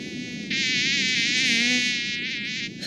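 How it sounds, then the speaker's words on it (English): A mosquito buzzes in an anime episode, a sharp, loud whine that starts abruptly and holds steady for a couple of seconds, wavering slightly in pitch as it hovers close. "Another mosquito!"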